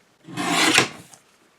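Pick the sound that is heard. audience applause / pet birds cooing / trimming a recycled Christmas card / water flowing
trimming a recycled Christmas card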